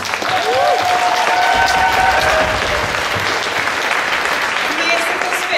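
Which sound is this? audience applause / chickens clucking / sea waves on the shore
audience applause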